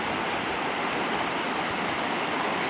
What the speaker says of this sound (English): Granite Creek.